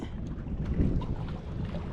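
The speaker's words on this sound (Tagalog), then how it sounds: "Lakas kasi yung hangin sa labas." Strong wind blows outside on an island during a typhoon, a low rumbling buffet that gusts against the microphone in an uneven roar.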